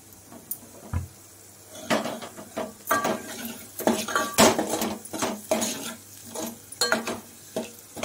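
Spoon scraping and clinking against a pan while a lentil and spice filling for puranpoli is stirred and sautéed in oil, a string of sharp metallic knocks and scrapes at an irregular, brisk rhythm, close and fairly loud.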